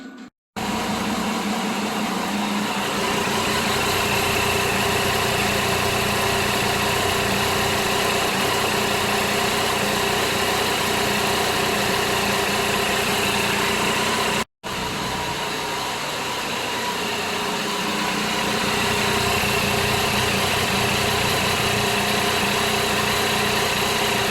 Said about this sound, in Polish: wyprowadzamy na zewnątrz, rozgrzewamy motocykl